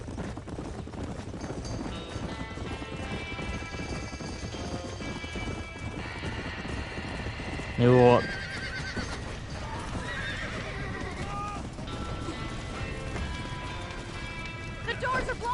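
A horse gallops in the Red Dead Redemption 2 video game, with steady hoofbeats, a neigh and game music. A man briefly exclaims, and a loud burst comes midway.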